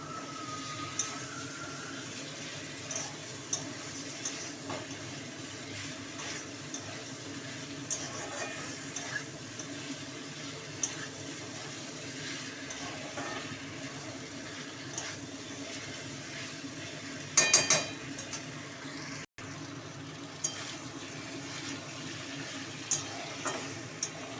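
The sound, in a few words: cauliflower curry sautéing in pan with a little water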